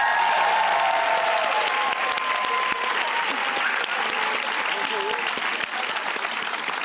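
A round of applause for the women at a #SheOwnsHerSuccess event: steady, continuous crowd clapping at even strength throughout, with faint voices underneath.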